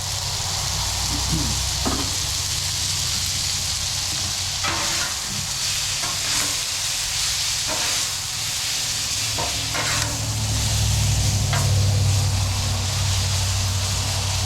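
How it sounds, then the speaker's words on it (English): Thin-sliced ribeye sizzling on a Blackstone griddle, a steady loud frying hiss with occasional scraping and stirring clicks of a spatula throughout. "when we've got the ribeye sliced that thin, it doesn't take long at all to get that cooked"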